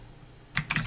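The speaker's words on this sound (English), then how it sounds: "let's just type in a function, f of x equals log" A few quick keystrokes on a computer keyboard, close and crisp, a short cluster of clicks after a near-silent start.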